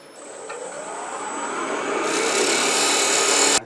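A wood lathe spins a pendant blank while it is turned, giving a steady whirring hum with a high whine that builds gradually and grows louder before cutting off abruptly at the end.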